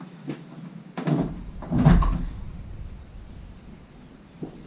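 A car door being taken off a Ford Capri, giving a few dull knocks and clunks of metal, with one heavier thud near the middle and a faint tap at the end, close by with no talking.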